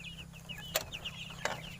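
Young chickens from a 45-day broiler flock cluck and chirp softly in a pen, a steady low chatter of small calls with two sharper peeps standing out over a constant low hum.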